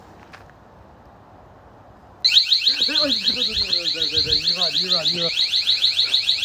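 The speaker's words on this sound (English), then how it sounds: "Let's set the alarm off." A loud electronic alarm in an abandoned building suddenly starts up after a quiet moment, blaring a rapid, pulsing warble continuously while voices talk underneath.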